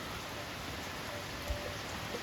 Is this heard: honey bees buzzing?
no